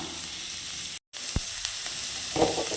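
Chopped garlic frying until golden in a pan for a ponnanganni keerai stir-fry, a steady close sizzle broken by a brief dropout, then a few light clinks and a stronger crackling burst near the end.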